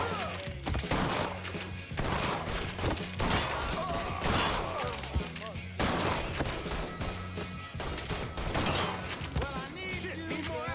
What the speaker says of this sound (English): Under heavy fucking fire.